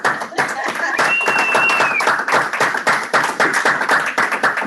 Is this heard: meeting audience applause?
yes